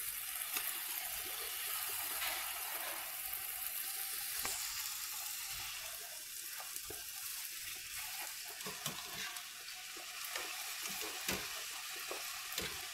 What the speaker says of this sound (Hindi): इसी तरह से हम सभी गोलगप्पे फ्राई कर लेंगे।